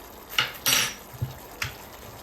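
A spoon scrapes and clatters through minced meat with passata in a pan: four short close knocks and scrapes spaced apart over a faint background hiss.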